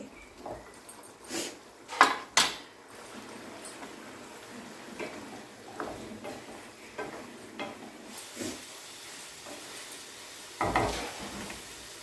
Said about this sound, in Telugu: మటన్ మూత పెట్టకుండా కలుపుకోవాలి